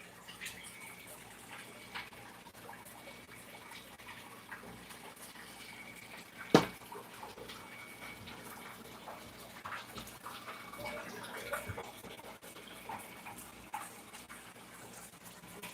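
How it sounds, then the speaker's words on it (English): Water running steadily during an aquarium water change in a home fish room, a soft, continuous close rush with one brief louder knock partway through. "you can see the water running"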